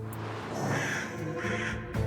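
Crows caw in an asylum room in the video game Morimens, harsh rasping calls repeating over a dense ambient background, fairly loud and without speech.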